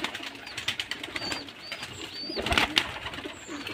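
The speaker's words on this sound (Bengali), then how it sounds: "এটা হলো ঘিয়াচন্ডি, জোড়া এক জোড়া না?" A pair of Ghiya Chandi pigeons on a Bangladeshi pigeon farm gives low cooing, joined by a few thin, rising bird calls nearby, with no talking.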